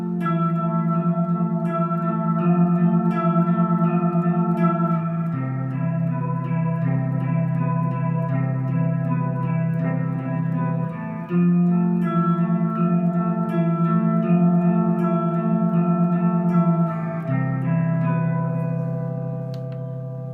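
Boss MS-3 multi-effects unit running a wave modulation effect with its rate turned low, giving sustained guitar chords a slow, swelling chorus-like wobble; loud and continuous with no talking.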